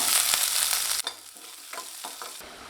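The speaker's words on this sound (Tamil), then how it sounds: "அரை டீஸ்பூன் சீரகம் இதெல்லாம் நல்லா பொரிஞ்சிச்சுங்க" Half a teaspoon of cumin and other tempering spices fry in hot oil in a pan. A loud, dense sizzle gives way to sparser bursts of crackling and spluttering, with no talking.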